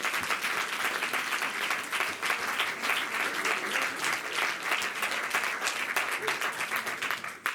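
An audience at an eloquence contest applauds warmly, a dense wash of steady clapping that goes on for several seconds before tapering at the end.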